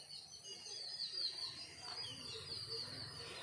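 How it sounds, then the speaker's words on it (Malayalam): Birds chirping in a park, faint high twittering calls that repeat over a quiet outdoor background, with no talk. "എവിടുന്നാ ഗൈസ് കിളിയുടെ സൗണ്ട്?"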